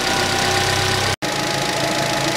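A warmed-up 2011 Chevrolet Cruze with the F18D4 engine idles steadily and loudly up close, a dense continuous drone with a faint knocking undertone and one brief cut in the sound.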